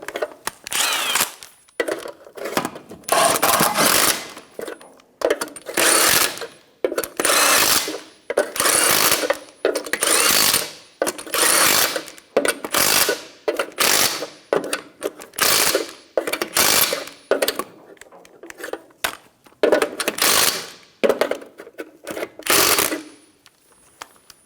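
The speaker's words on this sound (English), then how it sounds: "Snug down the lug nuts." Lug nuts on a 2005-2010 Toyota Tacoma front wheel are snugged down in repeated short, rattling mechanical bursts, each lasting about a second, separated by brief pauses and continuing for over twenty seconds.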